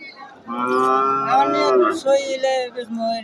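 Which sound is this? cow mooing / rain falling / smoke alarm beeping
cow mooing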